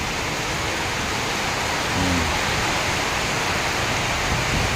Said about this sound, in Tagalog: Biglaang lumakas ang ulan.